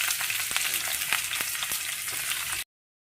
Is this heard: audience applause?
no